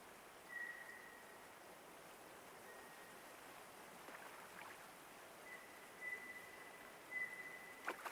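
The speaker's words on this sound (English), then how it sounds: "It's currently raining" Steady rain falling outdoors, heard faintly as a soft continuous hiss behind an indoor room, with a few brief high tones and light taps over it and no talking.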